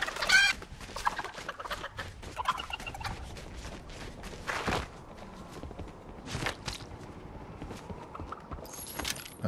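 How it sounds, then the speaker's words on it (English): Chickens cluck and gobble in Fortnite in a snowy area, scattered, busy clucking bursts mixed with clattering game noises, fairly close, with no talking. "Get away, chicken."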